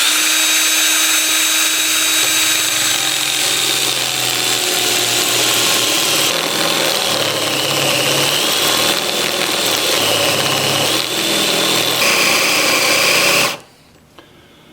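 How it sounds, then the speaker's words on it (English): A drill bores a hole for a woodworm screw in a wood-turning blank, grinding and whirring loudly with a steady mechanical rattle for about thirteen seconds, then cuts off abruptly into near silence. "I also drilled the hole for my woodworm screw."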